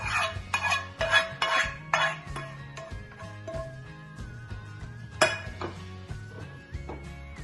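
Grated bottle gourd tipped into a pot of boiling milk for kheer, heard as clattering metal utensil knocks and clinks against the pot in quick bursts, with a sustained ringing tone after a sharp strike.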